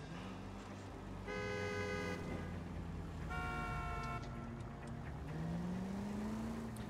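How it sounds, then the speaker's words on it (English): Police car horn blaring from a cruiser in L.A. Noire, two separate loud honks over a steady engine rumble, followed by a rising engine note as the car speeds up. "I know you can use the police horn and most of these cars will pull over, but that police horn's just way too loud"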